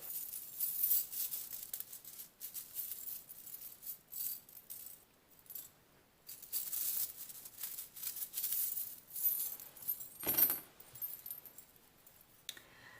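Small metal charms jingle and clink during a charm-casting draw, with soft rattling shakes and one brief louder clatter near the end; quiet and close, with no talking.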